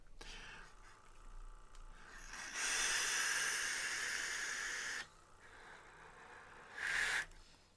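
Faint, close airflow hiss as a draw is pulled through the top airflow of an Advken Owl vape, a steady rush lasting about two seconds followed by a shorter second pull.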